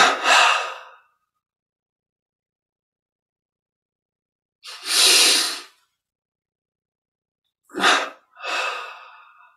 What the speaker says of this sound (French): On prend une double inspire par les narines. On garde l'air dedans, on serre les poings, on contracte tous les muscles. Et on relâche à l'expire.